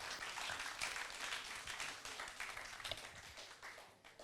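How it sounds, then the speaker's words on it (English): A round of applause rises for young participants on a youth programme, many hands clapping in a steady, fairly faint crowd wash that thins out toward the end. "Let's give a round of applause for these young people here."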